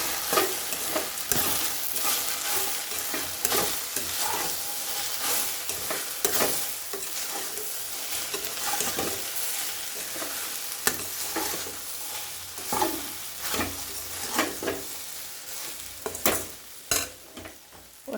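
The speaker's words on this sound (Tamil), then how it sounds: "இப்போ நல்லா கிண்டிக்கலாம்" Okra poriyal fries in a pan, salted and stirred, with a steady sizzle broken by repeated scraping and clattering strokes of a spoon throughout, close and without speech.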